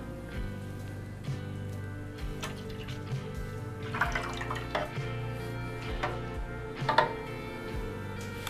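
Durgol Swiss espresso descaling solution is poured for a Breville Barista Express, giving soft liquid splashes and drips that run steadily with a few brighter splashes near the middle and end, fairly quiet and close.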